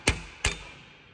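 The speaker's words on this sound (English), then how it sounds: "Yeah, I gotta get the hammer." Two sharp metal hammer strikes on a corroded parking brake assembly of a 2009-2013 Toyota Corolla, close and loud, about a third of a second apart, each ringing briefly before fading.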